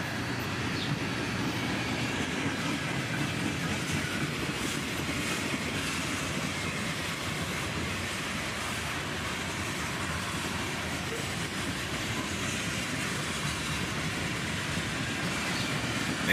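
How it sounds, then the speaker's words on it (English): A loud, close freight train with Dash 9 and Dash 8 locomotives, covered hoppers and a Conrail boxcar rolls past steadily, with constant rumbling and rhythmic clickety-clack of wheels on the rails. "the end of the train goes by here"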